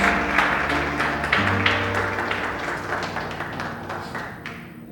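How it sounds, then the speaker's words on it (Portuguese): A church congregation claps together in sustained applause, a dense steady patter over sustained musical tones that slowly fades toward the end. "Então aplauda o Senhor, se coloque de pé."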